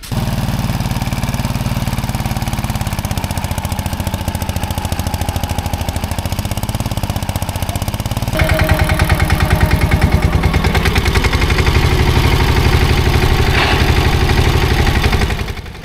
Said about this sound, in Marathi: चिखलात ट्रॅक्टर फसलाय.